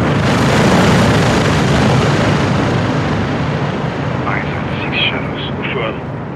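A helicopter approaches in the Call of Duty Modern Warfare II prison break mission, its steady rotor roar blending into loud broadband battle noise that holds throughout, with faint chirps near the end.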